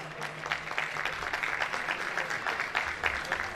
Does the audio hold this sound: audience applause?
yes